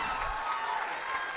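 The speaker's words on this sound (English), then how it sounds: "One more round of applause, please." Audience applause at a Bollywood dance show: a brief, dense wash of clapping from a crowd, steady and fairly loud throughout with no voices standing out.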